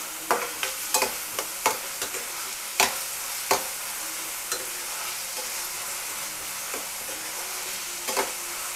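Ingredients fry in a pan until golden, a loud, continuous sizzle broken by repeated stirring scrapes and clicks at an uneven rhythm.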